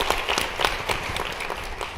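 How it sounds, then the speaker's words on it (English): Audience at a Women of Habitat Hope Builders luncheon breaks into steady applause, a dense wash of many hands clapping throughout the short stretch. "So can we please give a round of applause to Kim and Denise and Tamara."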